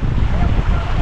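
Strong wind roaring and buffeting the microphone, a dense low rumble with water sloshing in the background.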